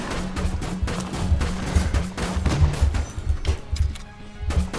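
Weapon fire from the top-down dungeon-crawler shooter Enter the Gungeon, a steady stream of punchy, rhythmic shots with layered game effects, loud and continuous across the clip with no talking.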